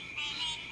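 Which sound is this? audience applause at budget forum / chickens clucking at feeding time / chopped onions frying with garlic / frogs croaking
frogs croaking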